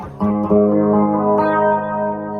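An electric guitar run through a Nobels Mini flanger pedal set subtly rings out a couple of sustained chords, the second struck partway through, with a slow sweeping shimmer as the notes decay, loud and close with no talking.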